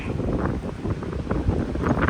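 Strong wind roars and buffets against the microphone in a steady, low rumbling gust with no voices.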